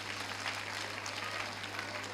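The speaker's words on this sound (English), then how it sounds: "So can you clap for this girl?" Audience applause at the 16th Annual Education & Leadership Congress in Kakuma, a dense, steady wash of clapping from a crowd sustained evenly throughout.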